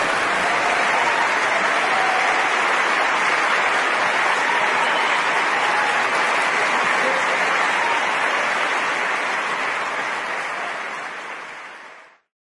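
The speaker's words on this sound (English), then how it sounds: "Would you join me in giving a round of applause to both our guests today?" An audience at a philosophy debate on God's existence gives sustained, dense applause for the guests for about twelve seconds. The clapping stays even until it fades out at the end.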